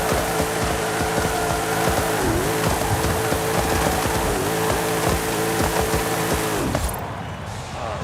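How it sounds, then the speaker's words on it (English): A 2019 Corvette ZR1 does a reverse burnout in Forza Horizon 5, its engine holding a loud steady roar with squealing tires for about seven seconds before cutting off abruptly. "Reverse burnout."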